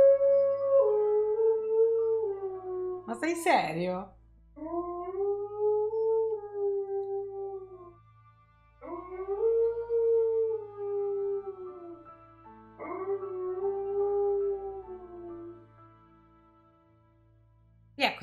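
A dog howls in long, wavering drawn-out cries at a passing ambulance siren, pausing between them; a person speaks briefly once.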